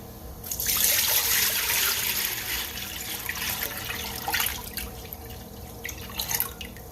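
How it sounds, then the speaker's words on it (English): A gallon of water pours steadily into a pot, a rushing splash that swells and fades with a few uneven surges, no voices. "In a pot of your choice, you're going to add a gallon of water."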